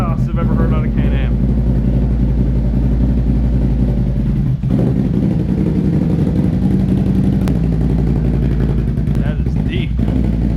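Deep, rumbling idle from a Can-Am Renegade ATV with an RJWC APX dual exhaust, steady and close with occasional throttle blips, as someone speaks over the engine.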